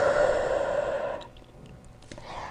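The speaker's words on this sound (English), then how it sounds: "Inhale deeply to your nose, and exhale deeply through your mouth" A long, deep breath is pushed out through the mouth during a Pilates workout, a loud breathy exhale that fades after about a second, followed by quiet room noise and faint clicks.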